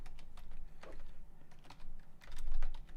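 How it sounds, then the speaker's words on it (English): Quick bursts of typing on a computer keyboard, close up, with irregular clusters of key clicks and short pauses over a low hum. "and I'll type"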